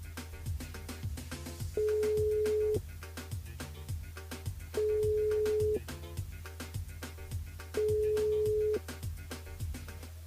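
A telephone ringing tone sounds while a radio contestant is being called, three long steady electronic rings separated by pauses, heard over a thumping music bed.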